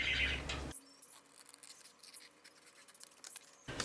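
Razor blade slicing through paper in a papercraft project, a faint, close scratchy cut lasting a few seconds between louder handling sounds.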